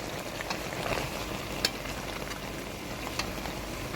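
Soya chunk curry is stirred in a pan over a low, steady bubbling sizzle, with a few soft scrapes and taps of the spoon, close and moderately quiet with no talking.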